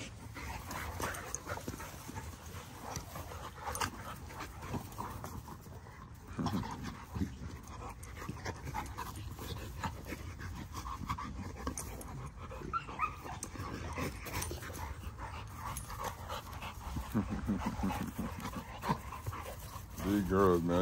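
Dogs panting and whimpering close by in a kennel setting, with steady breathy panting and occasional soft whines under someone talking throughout.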